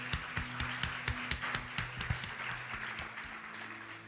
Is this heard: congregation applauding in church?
yes